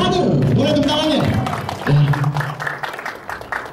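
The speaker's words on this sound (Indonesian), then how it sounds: "Boleh tepuk tangan ya" A studio audience applauds, a burst of scattered clapping that starts under a speaking voice and carries on beside it, fairly close and moderately loud.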